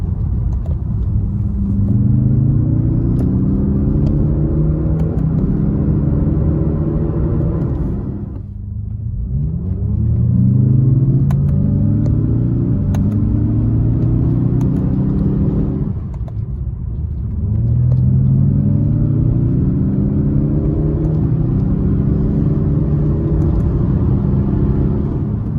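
A Lexus IS 300h hybrid with a 4-cylinder 2.5 litre, 220 horsepower engine accelerates while driving, a steady low in-cabin rumble with rising tonal whine through three acceleration runs separated by brief dips, and no talking.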